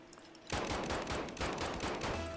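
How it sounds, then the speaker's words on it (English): Dense, rapid gunfire erupts after a quiet half second and keeps going in overlapping bursts, loud and close, during a police shootout in a video game. "Shots fired! Shots fired!"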